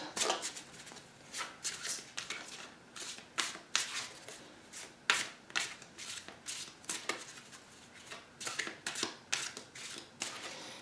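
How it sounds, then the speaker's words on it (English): Tarot cards being shuffled close up, repeated riffling bursts in an uneven rhythm with short pauses between them, no talking. "I'm going to give them a quick shuffle as well on camera"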